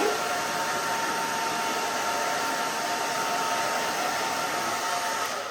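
A hair dryer runs continuously while blow-drying a pixie haircut, a loud, steady broadband whoosh of rushing air close to the microphone, holding even for the whole stretch with no talk over it.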